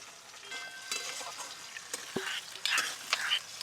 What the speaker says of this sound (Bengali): এবার ভালো করে মিক্স করে নেব। পেঁয়াজ 2-1 বার নেড়ে নিয়েছি